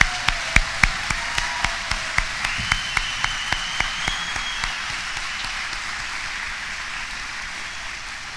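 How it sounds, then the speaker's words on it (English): Applause for nurses at a university pinning ceremony: one nearby pair of hands claps in a sharp, regular rhythm over a softer crowd, then the clapping fades away. "Let's give all our nurses another round of applause for their pins."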